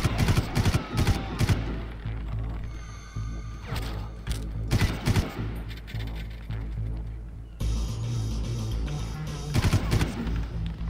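Bursts of automatic gunfire and single shots in the video game Far Cry, coming in rapid clusters with brief pauses, one sustained volley near the end, no talking.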